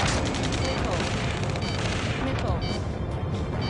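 Gunfire and explosions in the jet combat game Ace Combat 7 make a dense, continuous roar of booms and shots, with urgent radio voices talking over the battle.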